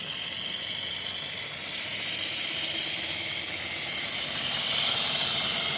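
Regner live steam radio-controlled locomotive, a Willamette model hauling log wagons, running with its regulator opened slightly, giving a steady hissing, mechanical chuffing texture that grows a little louder near the end.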